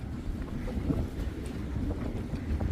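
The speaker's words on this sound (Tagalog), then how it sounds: "Ang lakas ng hangin." Strong wind buffets across a long jetty at Welshpool, Victoria, as a steady, loud, low rumbling roar of gusts hitting the microphone, with no talk during it.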